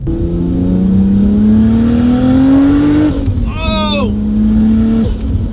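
A Nissan Skyline R32 GT-R engine roars loudly and rises steadily in pitch as it accelerates, drops briefly with a squealing whine, then climbs again close by.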